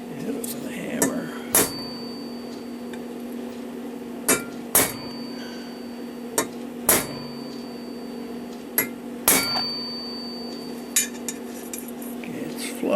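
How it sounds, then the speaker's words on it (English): A hammer taps a brass bushing into a Urgos triple chime tall case clock movement, sharp metallic knocks spaced a second or two apart over a steady hum, close and crisp, with faint talk in between. "Hit it with a hammer."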